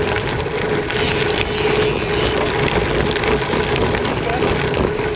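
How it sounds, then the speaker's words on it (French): Headwind buffets a cyclist's microphone on a long gravel ride, a constant loud rushing roar with gusty fluctuations that fills every moment, masking other sounds. "Là, on a le vent dans la gueule quand même un peu."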